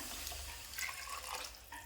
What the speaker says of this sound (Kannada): ಈಗ ನೋಡ್ರಿ ಇದಕ್ಕೆ ನೀರು ಹಾಕ್ಲತ್ತೀನಿ ನಾನು